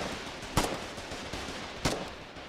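Gunfire in the Foxhole video game, with a couple of sharp distant shots and fainter pops over a steady noisy battlefield background.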